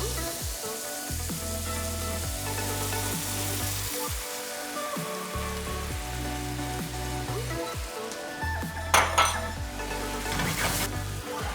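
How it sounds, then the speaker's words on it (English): Vegetables for cauliflower pad thai sizzle loudly in a hot pan as sauce is poured in, a dense steady frying hiss with stirring scrapes and a brief louder burst of hissing near the end. "I'm gonna add the sauce that we made right to the vegetables"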